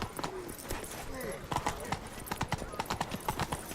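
Roach the horse galloping in The Witcher 3 video game, a quick steady clatter of hoofbeats that keeps going throughout under a murmur of background voices.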